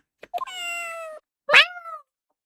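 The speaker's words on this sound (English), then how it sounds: "It sounded like a cat." Two meows from a cat in the Ace Attorney game sound clearly in quiet. A short chirp leads into a long drawn-out meow, and after a pause a sharper, falling second meow follows. No voices are heard.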